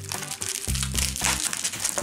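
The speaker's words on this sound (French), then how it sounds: "Le bruit du scotch affole le chat." Adhesive tape pulled and unrolled off the roll in a short crinkly, tearing burst, close and fairly loud with no talk.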